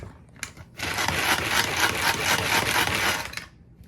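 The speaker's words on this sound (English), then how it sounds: "we're going to use our chopper again" A hand-pulled Tupperware chopper churns apple crisp topping of flour and butter, giving a close, steady rattling whir for about three seconds after a couple of short preliminary pulls.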